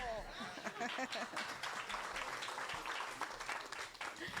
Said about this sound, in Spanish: Pero también un aplauso.